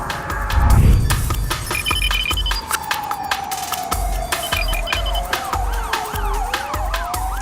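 Police car sirens wail and sweep up and down through steady city traffic noise, with a low rumbling burst near the start and the sirens carrying throughout.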